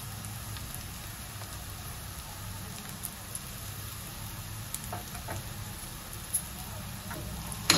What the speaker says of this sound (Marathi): छान ते परतून घेऊया।